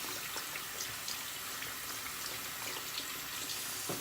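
Tap water runs steadily to soak a shaving brush, a continuous close hiss and splash from the faucet that holds even for the whole stretch, with no voices over it.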